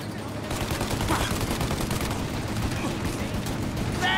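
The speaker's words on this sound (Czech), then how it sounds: "Až přestanou střílet, sestřelím ten kulomet!" Rapid bursts of machine gun fire rattle continuously at a steady, loud level in Mafia: Definitive Edition, with a few sharper shots near the end and faint voices beneath.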